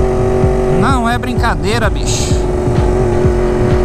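Yamaha R1 motorcycle engine revving and droning in rising and falling sweeps, loud and near, with someone talking over the engine sound.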